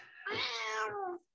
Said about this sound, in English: I've got a cat prowling around my desk.